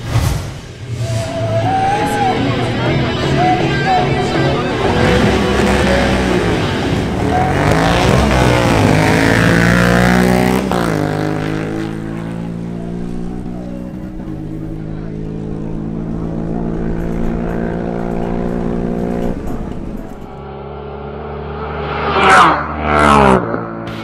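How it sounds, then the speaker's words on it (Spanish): A Honda CB1000R motorcycle makes a drag racing qualifying run: a loud, close engine roar climbs repeatedly in pitch through the gear changes, then fades down before a few final sharp revs. "El siguiente en clasificar es la Honda CB1000R de Luis López."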